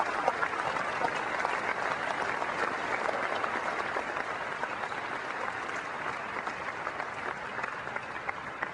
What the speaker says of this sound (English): I would like to ask you to give me a round of applause for their families